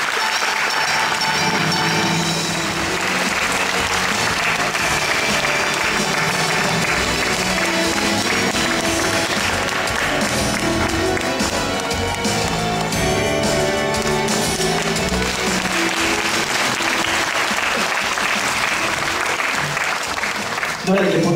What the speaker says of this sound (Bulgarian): да ги аплодираме